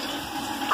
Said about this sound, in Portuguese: Vou ligar a água antes da elétrica, tá?